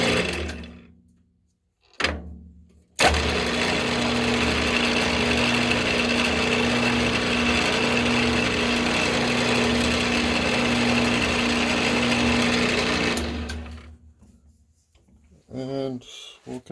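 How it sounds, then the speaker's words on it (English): A mill drill fitted with a center drill runs steadily while cutting a cross hole in metal stock held in a vise, a continuous close motor hum with a faint rhythmic knock, starting and stopping with brief pauses. "We're ready to start with the center drill."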